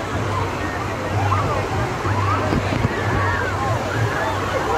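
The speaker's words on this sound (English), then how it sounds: "Right now we're in the kiddie water park." Continuous splashing and rushing water at a kiddie water park in Colorado, with children's shrieks and voices mixed in over a steady watery roar.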